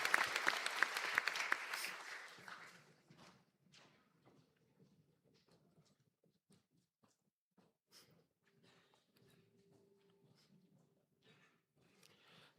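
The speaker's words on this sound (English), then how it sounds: "Please give a round of applause to the graduates of these programs." An audience at a Donegal conferring ceremony applauds the graduates of the programs in a short, lively burst of clapping that dies away after about three seconds, leaving a quiet hall with faint scattered rustles and shuffles.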